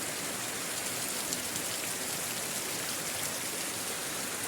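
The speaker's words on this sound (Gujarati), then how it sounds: "તો આજે વરસાદ તો બહુ જ પડી રહ્યો છે, પહેલાં કરતાં પણ વધારે" Heavy rain pours down in a dense, unbroken hiss of drops striking surfaces, steady and fairly loud throughout with no speech.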